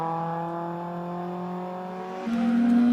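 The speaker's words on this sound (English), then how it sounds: "Our next car, the STM Phoenix of Lloyd Bettinson, as I'm sure you can hear, already underway" Lloyd Bettinson's STM Phoenix drag racing car runs with a loud, steady, harmonic engine drone that jumps to a higher, harsher pitch near the end, heard from a distance with no talk.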